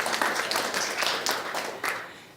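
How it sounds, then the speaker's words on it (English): A seminar audience gives a short round of applause, a brief burst of close clapping with uneven bursts that fades quickly. "can we give him a round of applause for that question?"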